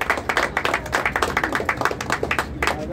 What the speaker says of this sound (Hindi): तालियां। ताली बजाइए जोर से।